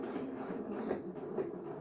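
A sewing machine stitching in reverse over a sun hat seam gives a faint, steady mechanical whir with soft rhythmic pulses, alone without talk.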